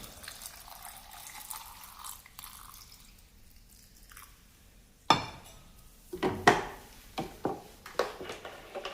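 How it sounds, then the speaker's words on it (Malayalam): Cooled boiled salt water is poured into a jar of pickle, starting with faint trickling and then turning into a run of sharp splashes and glassy clinks in the second half. "ഇനി അതിലേക്ക് ഉപ്പിട്ട് തിളപ്പിച്ച് ചൂടാറിയിരിക്കുന്ന വെള്ളം ചേർക്കാം."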